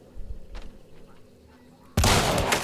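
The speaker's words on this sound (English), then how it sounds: "I can shoot him." A gunshot rings out in the video game Hunt: Showdown, a sudden loud broadband blast near the end that sustains as a dense roar, after a stretch of quieter game ambience.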